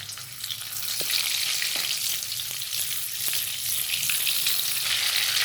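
Butter sizzling and frying in a hot kadhai, a loud, steady hiss with a few faint clinks of stirring, no voices over it.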